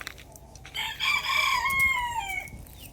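A rooster crows loudly nearby in one long, drawn-out call, with faint clucking and soft background noise around it.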